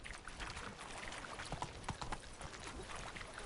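Roach, Geralt's horse in The Witcher 3: Wild Hunt, clip-clops along at a steady run, with hoofbeats landing in a quick rhythm over a continuous rushing wash of outdoor game ambience.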